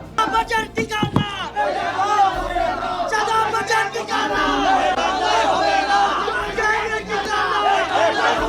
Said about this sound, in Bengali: এ সময় তাদের উদ্দেশ্য করে বিভিন্ন স্লোগান দেন রাসেল অনুসারীরা